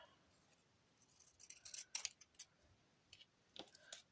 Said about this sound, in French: je coupe au milieu, hein, je fais mes petites étiquettes